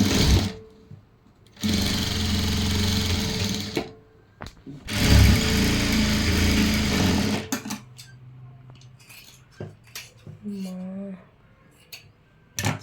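A sewing machine runs in two long, steady bursts while stitching a folded cloth hanging, loud and close, with short pauses and handling noises between runs as someone speaks.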